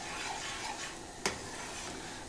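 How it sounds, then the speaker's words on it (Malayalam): Roasted semolina being stirred into boiling water for kesari gives a faint, steady bubbling and sizzling hiss with soft scraping, plus one brief clink of a utensil. "ഈ വറുത്ത് വെച്ചിരുന്ന റവയില്ലേ അത് ചേർത്ത് കൊടുക്കണം"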